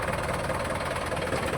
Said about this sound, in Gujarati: હવે આપણે ટ્રેક્ટર ચાલુ કરીએ